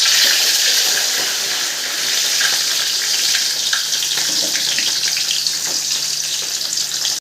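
Onions sautéing in a pan of oil for Thalassery biryani give a steady, close sizzle with light stirring scrapes throughout, loud and unbroken, with no voices.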